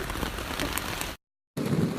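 Rain pattering on a tent at a campsite, a steady close hiss that cuts out briefly and then returns, with no voices.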